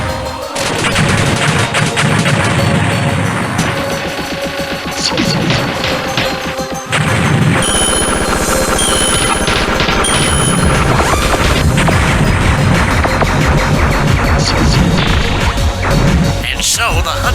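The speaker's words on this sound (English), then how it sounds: "Incoming cruise missiles on our 12." Cruise missiles intercepted and exploding in a space-combat video game, a loud, continuous barrage of blasts, crashes and rapid gunfire-like bursts with radio voices talking over the din.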